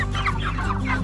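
Cornish Cross broiler chickens, meat birds about eleven weeks old with roosters and hens together, cluck close by in a steady, continuous chatter of overlapping calls.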